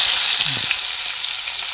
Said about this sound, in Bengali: পেঁয়াজগুলো হালকা ভেজে নেব